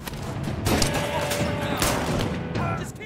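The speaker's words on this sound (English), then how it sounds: "Oh, they shooting" Gunfire in the video game As Dusk Falls, a dense burst of shots and booming impacts layered over game noise, loud and continuous for a few seconds.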